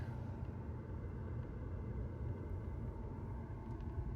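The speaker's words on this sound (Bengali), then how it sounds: "যে গাড়ি আস্তে আস্তে সামনের দিকে আগাইতেছে।" A car rolling slowly forward on its own with no feet on the pedals, giving a steady low rumble of tyres and drivetrain throughout, fairly loud and unbroken, with no talking.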